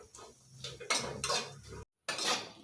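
Bitter gourd roasting in a pan is stirred with a metal utensil, giving irregular scraping and clinking bursts at close range, with a brief silent gap near the end.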